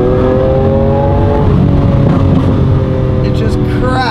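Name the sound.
Lamborghini Aventador S engine revving and cracking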